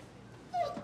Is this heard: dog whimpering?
yes